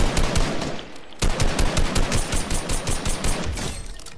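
Rapid automatic gunfire in an online shooter video game, loud bursts of close shots in quick rhythmic succession with a brief pause near the start, no talk over it.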